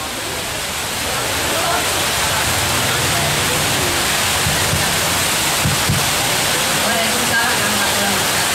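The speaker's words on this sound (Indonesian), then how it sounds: "kita beradu suara dengan hujan." Heavy rain pours steadily throughout an evening gathering, a dense continuous hiss that fills the whole space with no pauses, loud and close.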